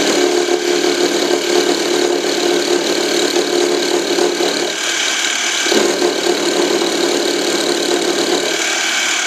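A milling machine spins at about 2,000 RPM while cutting a slot for a .22 LR shell holder: a loud, steady, close mechanical whir and grind that runs continuously with slight dips in tone.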